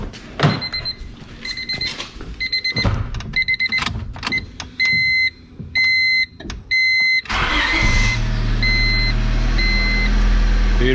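Lowered older Honda car; a starter cranks and the engine catches at the end into a steady idle, preceded by repeated electronic chime beeps and clicks, close and loud.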